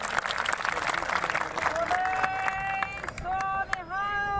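Crowd applause and murmuring at a Bharat Bandh sit-in protest at the Ladhowal toll plaza, with a burst of clapping at the start that gives way to sustained tonal sounds, over nearby talk.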